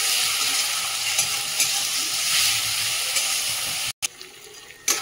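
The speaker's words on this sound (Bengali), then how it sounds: "আদা রসুন বাটাটা দিয়ে একটুখানি নেড়ে নিচ্ছি তেলে" Ginger garlic paste sizzles and spits in hot oil while being stirred in a pan, a bright continuous frying hiss with small crackles, cut by a brief silent gap before a quieter stretch of sizzle.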